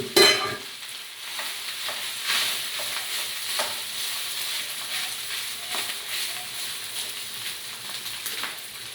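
Rice tossed into hot oil in a frying pan, sizzling steadily with brief stirring scrapes, close and moderately loud throughout, no voices.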